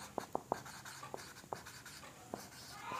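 Pen or chalk writing out a definition in a physics lesson, heard as a string of short scratchy strokes at an uneven pace, close and quiet with no talking.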